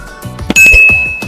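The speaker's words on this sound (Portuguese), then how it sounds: "no sininho das notificações" A bright bell ding for a notification rings out with clinking metallic tones and a sustained high chime, loud and close, preceded by quick light taps.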